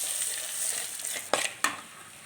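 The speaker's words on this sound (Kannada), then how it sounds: "ಅದಕ್ಕೇ ಮುಕ್ಕಾಲು ಬಟ್ಲಷ್ಟು ಚಿರೋಟಿ ರವೆ ತೊಗೊಂಡು ಹುರ್ಕೊಳ್ತಾ ಇದ್ದೀನಿ" Fine chiroti semolina roasting in ghee in a pan gives a steady soft sizzle, with a couple of sharper scraping stirs near the end, close up and without talk.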